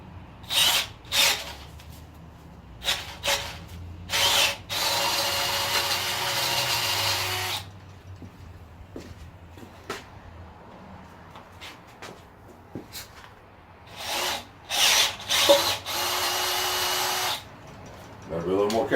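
A power drill works near the timing cover of the engine in a 1951 Chevy. Short whirring bursts alternate with longer runs and pauses, close and fairly loud, with some clattering handling between them.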